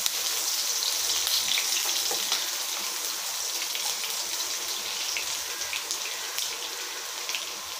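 Long-sliced onion sizzling steadily in a hot pan for a Korean rice cake dish, a dense, even frying hiss with faint crackles and occasional stirring taps, close and continuous with no voices.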